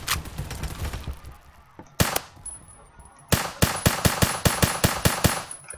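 Rapid gunfire in a video game: a few isolated shots early, then a dense run of sharp, loud bursts fired in quick succession near the end, with no voices.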